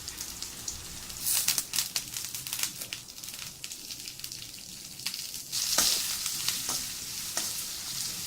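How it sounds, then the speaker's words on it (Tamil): Crushed spice masala and curry leaves sautéing in hot oil crackle and spit in sharp bursts over a steady sizzle, with no voices. "நம்ம இடித்து வச்சுருக்க மசாலாவை அந்த எண்ணெய்க்குள்ளே போட்டு அது கூடயே கொஞ்சோண்டு கருவேப்பிலையும் போட்டு நம்ம நல்லா அந்த எண்ணெயிலே வதக்கணும்."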